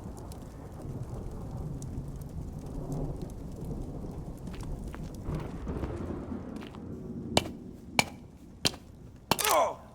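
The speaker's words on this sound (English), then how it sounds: "Oh, we're getting a bit of a storm happening." A video-game thunderstorm: steady rain patters throughout while several sharp thunder cracks strike near the end, growing louder and closer.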